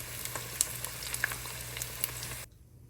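Chicken wings deep-frying crisp in hot oil, a steady close sizzle with scattered pops and crackles that cuts off abruptly near the end, no talk.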